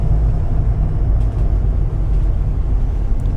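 Volvo IPS engines on a Tiara 39 Coupe rumble deep and loud while the boat stays in gear and spins, giving a continuous, close, heavy low drone with no breaks.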